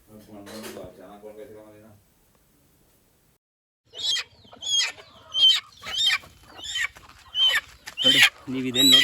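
Native country chickens (nati koli) and young chicks cluck in a series of short, fairly loud calls close by, with some talk at the start followed by a pause.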